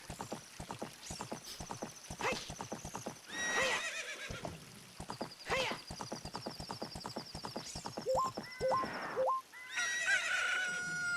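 Horse in Zelda: Ocarina of Time gallops with steady, rapid hoofbeats throughout, broken by several loud neighs and whinnies, alongside brief game chimes.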